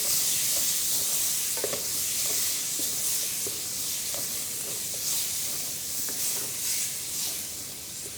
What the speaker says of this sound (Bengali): আমরা দিয়ে দিব হচ্ছে টমেটো চপ, ব্লাঞ্চ করা টমেটো চপ। এটাকে প্রপারলি সতে করে নিতে হবে